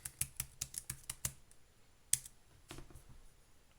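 Typing on a computer keyboard in a quiet room: a quick run of about eight crisp key clicks, a lone sharper tap after a pause, then a couple of softer taps, all close and fairly faint with no talking.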